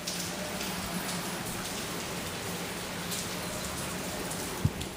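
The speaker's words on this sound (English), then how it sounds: "what is one supposed to do when it's raining in California?" Steady rain falling in California, an even soft patter and hiss that holds throughout, with one sharp tap near the end.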